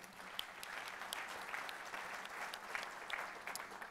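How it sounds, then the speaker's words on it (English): Audience applause at a ChefConf 2018 keynote, a steady wash of many hands clapping from a large crowd, fairly distant and even for the whole stretch with no talk over it. "Give him a round of applause."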